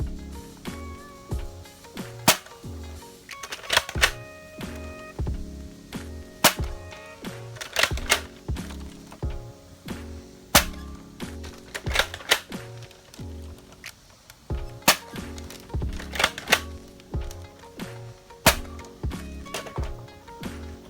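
Dart Zone foam dart blaster firing angled shots, giving a long series of sharp snapping pops at an irregular pace, fairly quiet and with no voices.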